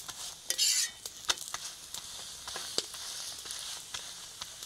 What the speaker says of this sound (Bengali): এগুলো কিন্তু হালকা আঁচে ভাজতে হয়।